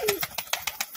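Pigeons kept as fliers give a quick run of soft, rhythmic cooing pulses up close, about six beats in a second.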